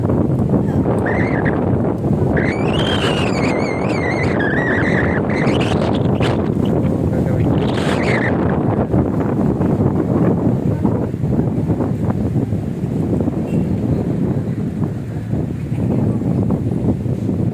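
Steady outdoor wind in Sampaloc, Philippines, among plants near a mountain and water, buffets the microphone with a constant low rumble, and a faint high tone rises and falls early on.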